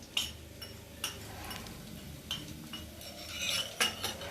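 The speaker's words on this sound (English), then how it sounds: "Mix it well." A spoon stirs spices in a pan, making repeated light metallic clinks and scrapes at an uneven rhythm, close and fairly quiet, with no talking.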